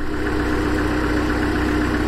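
A car engine idles with the air conditioning on full blast on recirculation, a loud, steady low rumble and blower roar with constant vibration and no voices.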